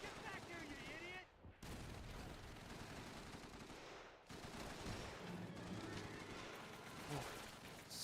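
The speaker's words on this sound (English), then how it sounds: "So it's gunfire today, Eva." Dense, continuous gunfire in the Call of Duty 3 video game, a sustained rattle of automatic fire and scattered shots with brief lulls, under shouted voices.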